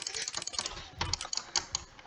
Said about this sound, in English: Okay, I'm clicking like real fast.